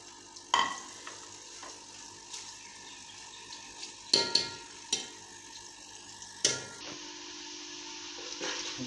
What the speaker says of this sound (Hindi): जैसे कि हमारी प्याज है बिल्कुल हल्की सी ब्राउन होने लगी है ऑयल के अंदर।